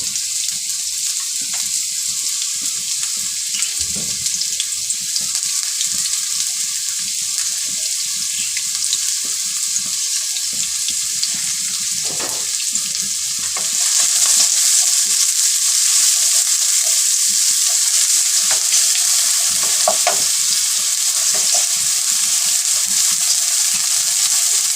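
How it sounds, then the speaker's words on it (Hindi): Sliced onions fry in hot oil in a pot with whole spices like cinnamon, cloves, cumin and star anise for a pea biryani, giving a steady, close sizzle that swells louder partway through. "एक से 2 मिनट तक प्याज को फ्राई करेंगे, ज़्यादा डार्क नहीं करेंगे।"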